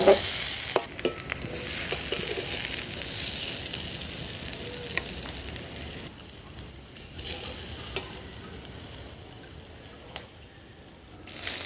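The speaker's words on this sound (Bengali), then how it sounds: "এই যে ওলকপি আর আলুটা দিয়ে একটু নেড়ে যে ঢাকা দিয়ে দিয়ে ভাজছে" Kohlrabi and potato fry and sizzle in a pan, stirred in scattered scrapes and clinks at close range, loudest early and easing to a softer crackle later, with no talk.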